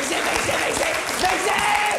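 A studio audience on a French television show claps, a brief burst of steady, fairly close applause lasting a couple of seconds with some voices mixed in.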